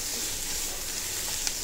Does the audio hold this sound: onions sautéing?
yes